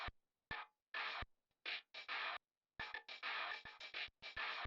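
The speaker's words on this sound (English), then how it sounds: "First I found this scratches loop from Looperman and I rearranged it" A rearranged loop of record scratches from Looperman for a Linkin Park style beat: short choppy bursts of bright, noisy scratching, stuttering in irregular rhythmic groups with abrupt gaps between them, close and alone.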